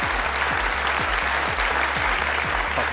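A studio audience at a Family Feud-style game show applauds contestants with dense, loud, sustained clapping, no voices over it.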